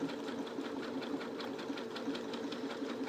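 Sewing machine stitching quilting hexies together, a steady close mechanical whir with rapid regular needle thumps, continuous throughout.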